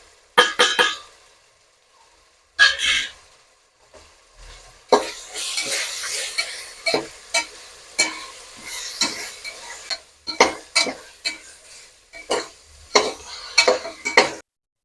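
A spoon stirs and scrapes through a sizzling chicken biryani mixture with red chili powder in a pot, irregular close clanks and swishes broken by short pauses, no talking.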